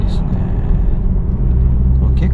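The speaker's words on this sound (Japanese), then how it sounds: "これ結構やっぱマフラーの音いいな。" Exhaust of a 2019 BMW Z4 heard from inside the cabin while driving: a loud, steady low drone with a deep rumble that holds without a break.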